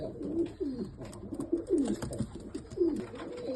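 Repeated low cooing from a white female pigeon, several rolling coos in steady succession close by, with no speech.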